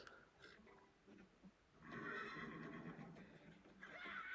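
A horse neighs and whinnies loudly in an anime episode, with hoof clip-clops and a busy soundtrack around it, the call swelling partway through and returning near the end.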